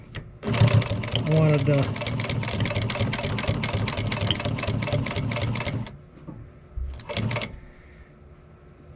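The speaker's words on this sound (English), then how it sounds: "This has a servo motor" A sewing machine's servo motor drives a rapid, steady stitching rattle for about six seconds while a person talks over it, followed by a brief second burst.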